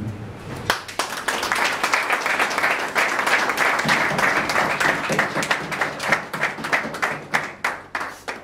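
An audience at a church gathering breaks into sustained applause, dense clapping at first that thins into scattered, individually distinct claps toward the end.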